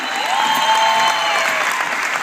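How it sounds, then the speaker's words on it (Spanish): A crowd applauds at a live event in Maracaibo welcoming a speaker to the stage, loud sustained clapping with a tonal whistle-like sweep running through it, steady throughout. "Un aplauso."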